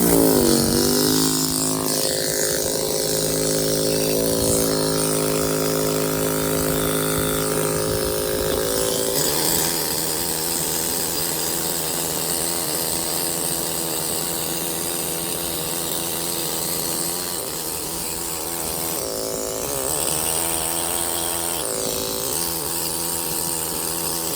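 A loud, steady stone-cutting chainsaw roars continuously, with a harsh ripping edge as it cuts a channel through stone, shifting pitch slightly now and then.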